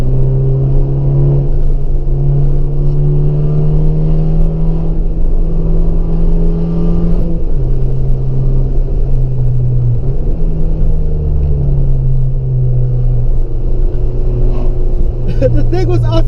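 A 2014 Fiat Abarth hot hatch drives with a steady, loud engine drone and rumble that holds throughout, dipping and rising as it shifts, with a voice talking over it.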